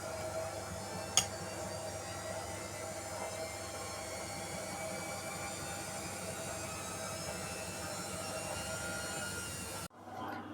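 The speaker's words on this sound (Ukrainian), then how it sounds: "Машинка хвилинок через 9 уже допере." A washing machine runs with a steady, low mechanical hum and whir throughout, churning nearby, with a brief click near the start before it cuts off.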